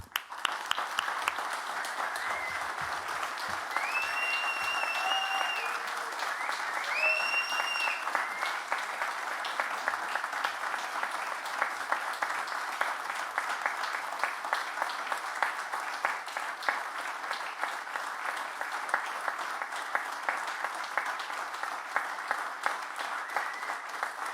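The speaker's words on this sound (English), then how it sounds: "So I just thought we'd do a round of applause and raise the roof for a really missed part of our culture." Sustained audience applause at a commemoration gathering for a punk community member, a dense steady wash of clapping running the full length with a few faint voices and whistles scattered through it.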